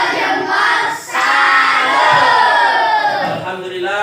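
Schoolchildren in an Islamic religious-education class shout a loud, rhythmic group cheer in unison, close and energetic, with the chant rising and falling in short bursts.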